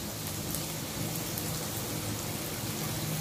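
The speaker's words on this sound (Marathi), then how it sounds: "तेल गरम झालं की बारीक चिरलेला कांदा आणि किसून घेतलेलं आलं ह्याची" Chopped onion and grated ginger hit hot oil for tempering, producing a loud, dense, continuous crackling sizzle that sounds almost like heavy rain, with no one speaking.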